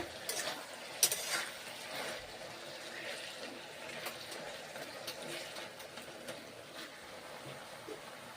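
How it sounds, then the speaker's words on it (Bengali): A spoon scrapes and stirs leafy greens curry (note shaak) in a pan with a little water, soft clinking and shuffling strokes close by, faint and steady with a sharper clink early on. "এইভাবে তাই নেড়ে চেড়ে সামান্য জল দিয়ে রান্নাটা করছি"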